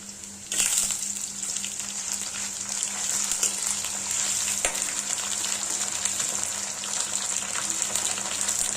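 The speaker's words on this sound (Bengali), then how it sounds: "আমাদের পেঁয়াজ প্রায় ভাজা হয়ে গেছে" Onions fry in hot oil with a loud, continuous sizzle close by and a couple of sharp clatters.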